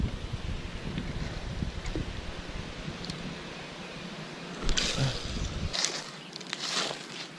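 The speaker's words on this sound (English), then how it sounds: "I'm gonna throw the drop shot because there's too much wind. Way too much wind." Strong wind buffeting the microphone outdoors on a fishing trip by the water, a steady loud rushing roar with gusty low rumble and a few brief knocks.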